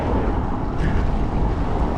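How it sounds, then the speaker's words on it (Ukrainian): Strong headwind buffets the microphone of a moving bicycle in a continuous low roar, gusting unevenly throughout. "А і вітер в лоб"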